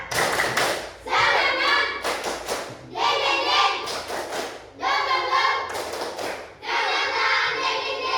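A group of children performs a rhythmic spirit clap, loud close bursts of clapping in repeated phrases separated by short pauses, with faint children's voices mixed in.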